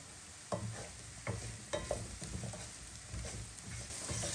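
Mushrooms sizzle softly in a pan while a utensil scrapes and stirs them every second or so.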